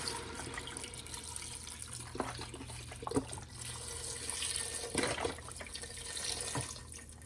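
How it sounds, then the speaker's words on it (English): Vegetable stock poured into a soup pot makes a steady, fairly quiet liquid stream with gurgling splashes, swelling in a few surges as it is poured in. "we are going to add 6 cups of vegetable stock"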